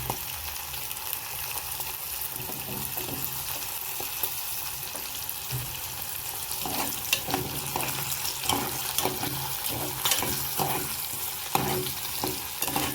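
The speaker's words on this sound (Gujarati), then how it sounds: "થોડી વાર ફ્રાય કરી લેશો તો બટાકાનું ઉપરનું જે લેયર છે એ નોર્મલી ફ્રાય થઈ જશે" Potatoes, cashews and peas frying in a pan for Gujarati vaghareli rice, with a steady close sizzle and occasional scraping stirs, no talking.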